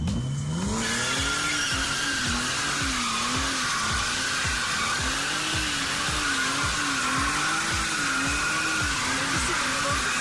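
A six-cylinder BMW 3 Series driven hard, its engine note rising and falling steadily while it accelerates, loud and close, with a strong rhythmic throb and no talk over it.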